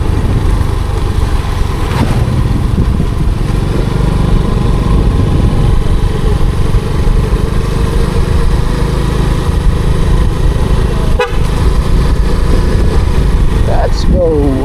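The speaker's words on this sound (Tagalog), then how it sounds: "Sarap magmotor dito sa probinsya guys." A motorcycle ridden along a rural provincial road, its engine droning steadily and loudly at close range throughout, with a faint rise in pitch near the end.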